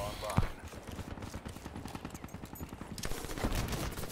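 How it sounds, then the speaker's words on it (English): Rapid automatic gunfire from the Argus rifle in a shooter video game, a steady stuttering burst of shots running the whole stretch, loud and close, with a heavier crack near the start and a speaker talking over it. "It's the Argus again. That gun is so annoying."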